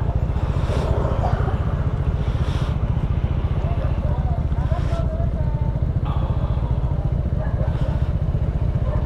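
Several motorcycles on a group ride idle and rev close by in a steady low rumble, with occasional clatter and passing surges.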